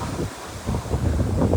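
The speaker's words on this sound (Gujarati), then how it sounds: "અલગ જગ્યાએ આવવાનું કારણ આ પવન આજ તો એવો છે એવો ભાઈ સાહેબ." Strong wind blowing outdoors where cattle are resting, a rough, gusty rush buffeting the microphone close up, swelling louder toward the end of the brief stretch.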